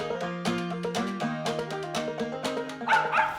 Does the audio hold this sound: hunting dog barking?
yes